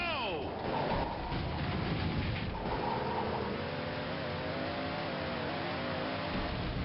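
Monster truck engines in Monster Truck Madness rev and race continuously, a steady mechanical drone with rising pitch sweeps near the start, while a voice talks over them.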